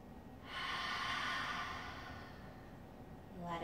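A single long, deep breath exhaled during a yoga stretch, soft and close, swelling then fading over a couple of seconds, followed by the start of another breath at the end.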